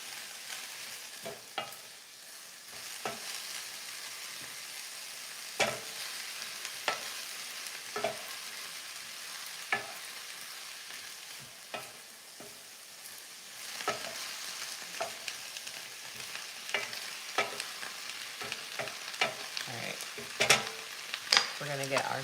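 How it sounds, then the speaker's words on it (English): Cabbage stir-fried over high heat, a continuous sizzle with frequent sharp scrapes and clanks of a utensil against the pan, close and fairly loud throughout, no voices. "Keep my fire up a little high and just keep working my cabbage so that it starts to wilt a little faster."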